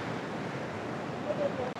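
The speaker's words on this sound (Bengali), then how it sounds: "দেখো খালি ঢেউগুলো আসছে দেখো।" Sea waves roll steadily onto Tajpur beach at high tide, a broad continuous wash of surf with wind noise on the microphone and a brief voice near the end.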